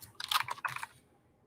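A quick flurry of keystrokes clatters on a computer keyboard, a short cluster of close, crisp taps that trails off into quiet.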